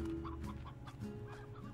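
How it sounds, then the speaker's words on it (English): Chickens cluck in the Slime Rancher video game, a steady run of soft bird calls at moderate distance with no talking over them. "I hear more chickens."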